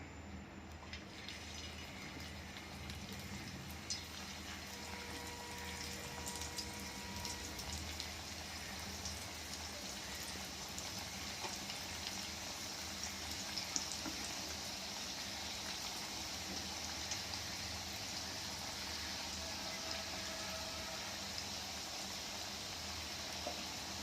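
Pieces of coriander vadi (kothimbir vadi) fry on a hot griddle, giving a faint, steady sizzling hiss with occasional soft crackles. It continues evenly throughout, with no voices.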